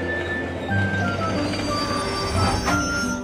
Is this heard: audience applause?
no